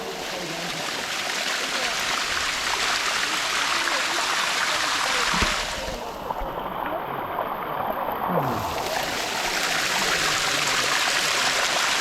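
A waterfall in Thailand rushes steadily in a continuous broadband roar, close and loud, with a brief muffled dip midway as if something passes near the microphone.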